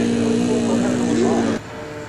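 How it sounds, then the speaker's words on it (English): A model airplane flies at an SAE Aero competition, its engine giving a sustained droning whine with shifting pitch under crowd noise, cutting off abruptly near the end. "It's our plane."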